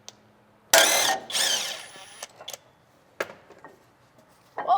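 A ratchet wrench loosens a 12 mm brake caliper bracket bolt on a Toyota 4Runner TRD, giving two loud, rough bursts of rapid clicking up close, followed by scattered metallic knocks and a short final burst.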